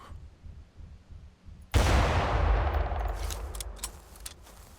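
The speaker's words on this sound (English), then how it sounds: "I guess the gunshot actually will scare off the raptors" In the video game Prehistoric Hunt, after quiet ambience, a single loud gunshot booms and rolls off into a long echoing tail, followed by a few faint clicks.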